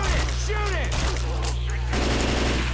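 Bursts of automatic gunfire crackle steadily at a tank during a Left 4 Dead 2 fight, layered over a loud low rumble, with excited voices talking over the shooting.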